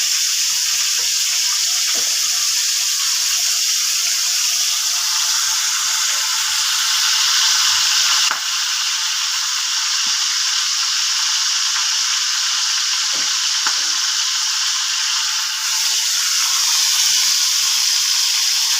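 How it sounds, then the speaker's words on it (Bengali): Prawns fry in a pan, bound for a dish with plantain flower, giving a steady close sizzle and hiss with a few soft clicks and pops, and no voices. "চিংড়ি মাছ ভাজছি"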